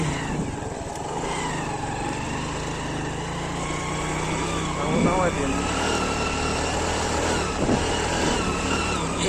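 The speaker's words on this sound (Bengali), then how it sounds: "এই যে পানির উপর দিয়ে যাইতেছে বাইক" A motorbike engine hums steadily nearby while riding through shallow water on the Jamuna riverbank in Manikganj, water churning and splashing beneath it, with people talking over the noise.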